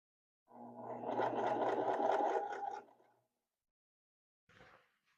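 A sewing machine stitches a denim hem in one steady, fast run of about two and a half seconds, close and clear, then stops; a brief short burst of machine noise follows near the end.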